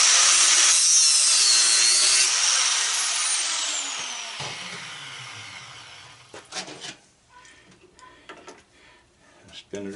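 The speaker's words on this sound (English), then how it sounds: "Okay, we got the angle grinder again. I'll make a cut on the top." An angle grinder cuts into a brass propane regulator, a loud high-pitched grinding whine that gradually winds down and stops, followed by clanking and handling of the metal part.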